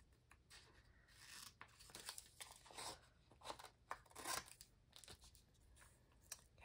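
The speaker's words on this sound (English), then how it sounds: "If I can find my scissors." Scissors snip through rub-ons in a series of quiet, close crisp cuts and papery rustles, irregular in rhythm, with no talking.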